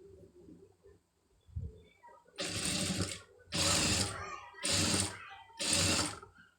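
A sewing machine stitching a lace design runs in four short bursts, each a loud, fast, steady whir separated by brief pauses. Faint quiet sounds come before the first burst.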